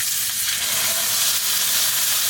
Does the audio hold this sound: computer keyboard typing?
no